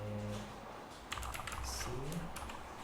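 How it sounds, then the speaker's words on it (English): Keys clatter on a computer keyboard during a coding session, a short burst of quiet clicks at close range over faint room hum. "let's start by typing."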